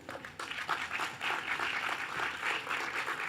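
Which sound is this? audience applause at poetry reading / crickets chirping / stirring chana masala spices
audience applause at poetry reading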